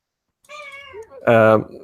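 A house cat meows close to the microphone during an online meeting, a two-part call with a softer opening and a loud, sustained second note, heard alone.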